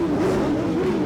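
Motorcycle engines revving together at an outdoor independence day ride in Côte d'Ivoire, a loud continuous droning hum of several bikes nearby with no pauses.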